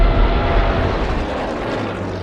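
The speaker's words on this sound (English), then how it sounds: "Richthofen and his remaining 123 working bomber planes launch a series of raids on Grozny" Drone of WWII German bomber planes flying on raids, a loud, dense rumbling roar of aircraft engines that holds steady and swells slightly, with no talking.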